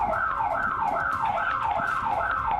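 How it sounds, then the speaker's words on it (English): A door alarm wails in a steady, rising-and-falling siren pattern, repeating about every half second, loud and continuous as picked up by a doorbell camera outdoors. "You could hear the alarm start kicking off as soon as they started working on the door."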